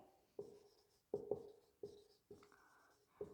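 Chalk or marker strokes on a classroom board during a lesson, sounding as a series of sharp scratchy taps and squeaks in uneven bursts, close and fairly quiet, with no talking.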